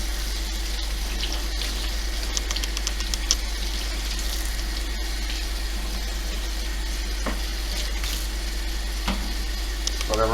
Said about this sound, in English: We're just going to let some water run over it,